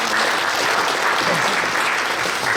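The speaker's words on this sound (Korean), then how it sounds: "큰 박수로 환영해 주십시오." A hall full of people bursts into warm, sustained applause to welcome guests at a church inauguration service, with dense clapping filling the room evenly for the whole stretch.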